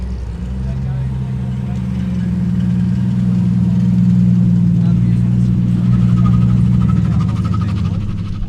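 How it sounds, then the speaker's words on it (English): A car engine idles steadily with a deep, low rumble throughout, holding a constant pitch and swelling slightly in the middle. "We just had even more tough cars roll up."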